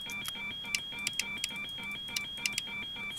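Cockpit buttons in a PMDG 777 flight simulator give a string of sharp, irregular clicks over a steady pair of high electronic beeping tones, close and moderately quiet, with no voices.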